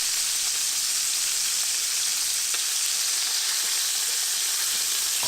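Duck breast searing skin side down in a hot pan, a loud, dense and unbroken sizzle of spitting fat, heard up close with no voices.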